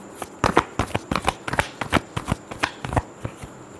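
Tarot cards are shuffled up close in a quick series of crisp, papery riffles and slaps, repeating in an uneven rhythm with no one speaking.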